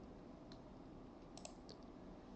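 Typing on a computer keyboard, faint scattered key clicks, a lone tap followed by a quick cluster of several, very quiet over a low background hiss.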